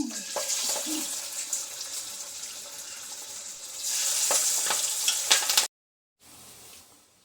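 Crispy chicken kababs frying in hot oil, a loud, dense sizzle with occasional spatula scrapes. It swells near the end, then stops abruptly and resumes more softly after a short gap.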